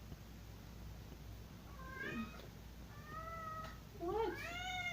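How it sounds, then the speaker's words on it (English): A house cat meows a few times, short rising-and-falling cries with a louder final one, heard fairly close against a quiet room background. "Sorry, that was my cat."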